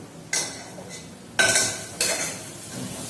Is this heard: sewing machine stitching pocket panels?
no